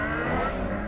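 A car engine in Batman: The Telltale Series drones steadily and loudly for under a second, a smooth motor hum with no voices over it.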